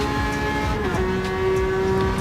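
Ferrari F12 Berlinetta engine in a Gran Turismo 7 race, a steady loud V12 drone with a rising whine holding through the whole stretch, blended with other cars in the pack.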